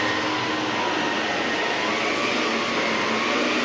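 An Electrolux Olympia One canister vacuum cleaner runs steadily and loudly with a broad, constant whooshing roar and no pauses, while the machine is pulled along during whole-house cleaning.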